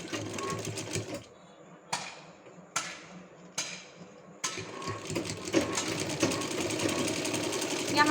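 A sewing machine runs double stitching on a salwar, its rapid mechanical chatter in bursts separated by short pauses, then a longer continuous run, close and clear.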